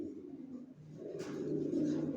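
Large racer pigeon babies in a sale loft give soft, low cooing that builds slightly in the second half, with a steady murmur of several birds close by.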